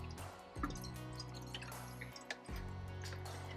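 Water poured from a can into the soil of a Regal house plant, a soft, close trickle and dripping with a faint hum beneath it and a couple of small knocks.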